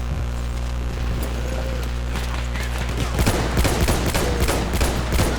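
Bursts of gunfire and explosive blasts in Battlefield 1 crackle over a steady low hum, growing denser and louder in the second half.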